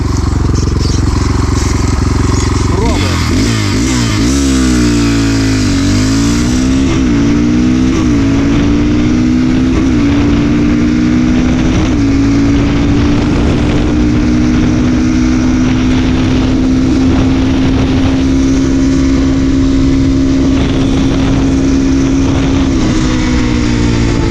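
A Kovi 250 Advance motorcycle with a ported 172FMM engine accelerates hard, its loud engine note climbing through several quick gear changes before settling into a long, steady high-revving drone with no talk.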